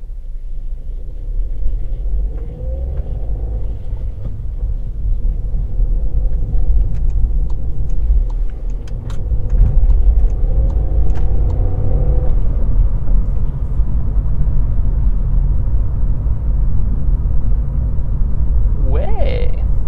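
A car accelerates along the road, its engine rumbling steadily and rising under a persistent low road roar, heard from inside the vehicle with a brief high squeak near the end.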